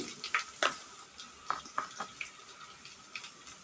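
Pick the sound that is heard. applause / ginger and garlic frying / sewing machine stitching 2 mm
ginger and garlic frying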